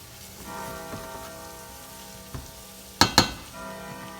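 Cube steak cooks in a pan with a steady, soft frying sizzle throughout, broken by a couple of sharp clatters near the end, with no voices.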